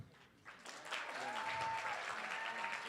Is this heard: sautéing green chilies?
no